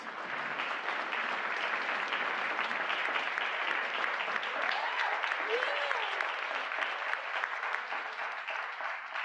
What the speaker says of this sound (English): I just was hoping we could get a quick round of applause for Alice for stepping in at the very last m